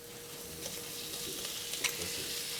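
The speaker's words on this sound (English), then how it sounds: "So next we're gonna add in our seasoned meat." Seasoned ground beef frying with onions in a pan gives a steady, soft sizzle with faint crackles and a brief stir near the end, alone and fairly quiet.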